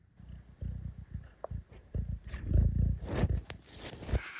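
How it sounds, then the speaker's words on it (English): A pet cat purring close by at night while being settled for bed, a low rumbling pulse that rises and falls steadily and strengthens midway, with faint rustles around it. "Oh, you're purring."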